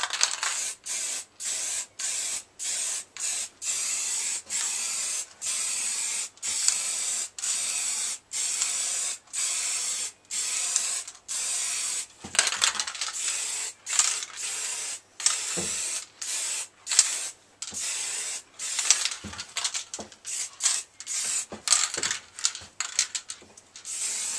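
A spray gun lays the first paint coat onto Harley-Davidson XL883 Iron motorcycle parts in a home garage, firing in repeated short hissing bursts with brief gaps, close and fairly loud, speeding into quicker passes toward the end.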